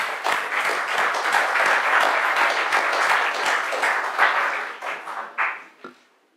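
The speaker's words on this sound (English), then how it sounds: "Also give them a round of applause." An audience at a panel discussion on big data and democracy applauds, a dense burst of clapping that holds steady, then thins into scattered claps and fades out.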